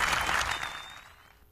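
A crowd applauds American competitors at a live-streamed event, a dense wash of clapping that starts full and steadily fades away over a second and a half.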